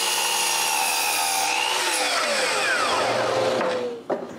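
Wood for a sharpening station sawn with a power saw, a loud continuous whining cut with a rising and falling tone that runs for about four seconds before stopping abruptly, followed by a brief knock.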